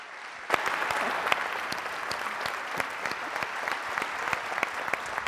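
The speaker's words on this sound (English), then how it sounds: "please give a round of applause to Emily Flores" A conference audience applauds as Emily Flores is welcomed to the stage at an opening ceremony, sustained dense clapping from a large crowd filling the hall, starting abruptly and holding steady throughout with a few sharper claps standing out.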